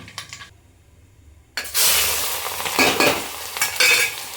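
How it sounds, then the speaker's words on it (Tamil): Chopped onions dropped into hot oil after mustard seeds have popped, a quiet moment then a sudden loud burst of frying sizzle, followed by steady close hissing with scraping stirs of a spoon in the pan. "கடுகு பொரிஞ்ச உடனேயே இந்த நம்ம வெட்டி வச்சுருக்க வெங்காயத்தையும் போட்டுக்கலாம்"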